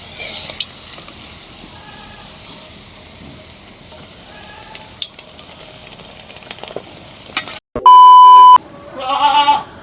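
Tempeh frying in hot oil makes a continuous crackling sizzle, broken late by a sharp electronic beep and a short bleating sound.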